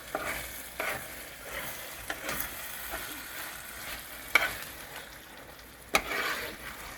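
Beef stroganoff being stirred in a pan, a low simmering sizzle under intermittent scraping strokes of a utensil against the pan, with a couple of sharper clinks, quiet and close.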